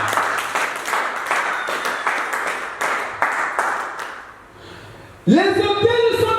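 Audience clapping and applause at a French-language church gathering, a steady run of claps that fades away before a voice speaks loudly.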